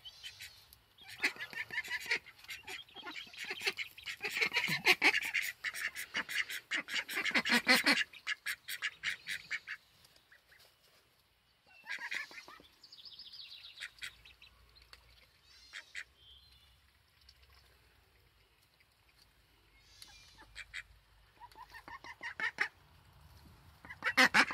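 Two ducks, Inky and Waddles, quack angrily near their nest in harsh, rapid bursts that come in loud clusters separated by quieter gaps, close to the listener.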